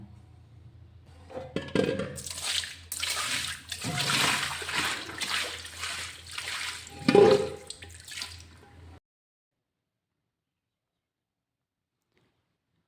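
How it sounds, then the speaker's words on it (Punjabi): Water sloshes and splashes in uneven bursts as kitchen towels are rinsed in a basin, close by, then everything falls silent. "ਚਲੋ ਜੀ ਆਪਾਂ ਹੁਣ ਇਹਨਾਂ ਦਾ ਸਾਫ਼ ਪਾਣੀ ਤਈਏ ਵਿੱਚੋਂ ਕੱਢ ਦਈਏ ਚਾਰ ਪੰਜ ਵਾਰੀ"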